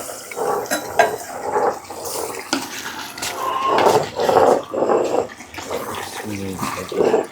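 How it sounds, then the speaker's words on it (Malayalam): Beef curry being stirred in a pot during village cooking in Kerala: irregular scraping and clanking of a utensil against the pot, close and moderately loud, with faint voices in the background. "ഇറച്ചി നമുക്ക് ഇളക്കി കൊടുക്കാട്ടാ"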